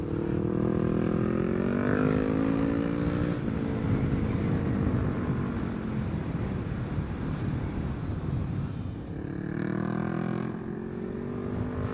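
A motorcycle climbs uphill on a winding mountain road, its engine droning steadily with rising and falling tonal pitch as it works through the revs, accompanied by loud continuous wind rush.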